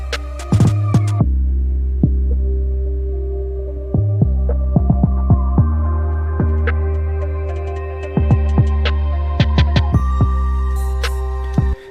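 A thumping electronic beat starts thin and muffled at the bottom end, then gradually fills out as low bass opens up, loud and steady.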